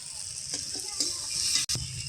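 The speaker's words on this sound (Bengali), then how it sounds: "চিংড়ি মাছটা মশলার সাথে ভালো করে কষে নেব।" Prawns fry with spices in a pan, giving a steady close sizzle with light stirring scrapes throughout.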